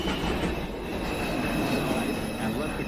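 A NYC subway 2 express train rumbles through Lincoln Center station, a dense, steady roar of wheels on rail with faint squeal, heard at close range for a few seconds.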